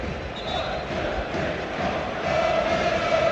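Football crowd at a Wales international qualifier against Azerbaijan, a steady broad roar of many voices rising slightly toward the end, continuous and fairly loud with no distinct words.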